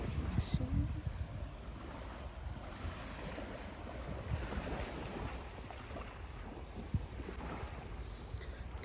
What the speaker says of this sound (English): Just listen to the ocean.